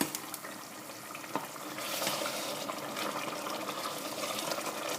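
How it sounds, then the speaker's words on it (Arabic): Hot water from a chickpea casserole poured into a simmering aubergine stew, a steady close liquid rush over bubbling sizzle for several seconds, no talk. "ديما انا نسقي من الماء اللي بالكاسرونه بحذاه هذايا تاع الحمص، مقدار كاس نتاع 200 مليلتر"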